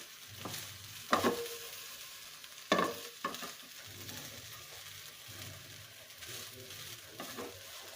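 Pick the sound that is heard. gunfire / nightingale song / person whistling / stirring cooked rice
stirring cooked rice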